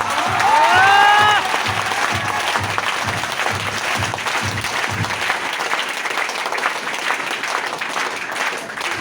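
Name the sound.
audience applause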